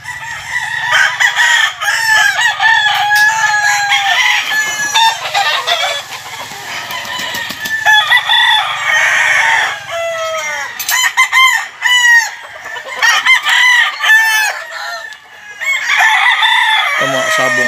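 Gamefowl stags of the pure Super Sweater line at a game farm crow repeatedly and cluck, several birds overlapping near and far in a steady, lively chorus with no talk.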